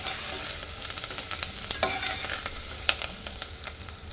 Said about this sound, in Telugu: ఆనియన్ వేసేస్తున్నాను ఆనియన్ని బాగా ఫ్రై చేసుకోవాలి